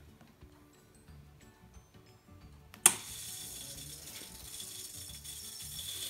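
Wazer desktop water jet cutter with air still in its line, ticking and rattling quietly before a sudden loud burst that settles into a steady, hissing, sputtering rush.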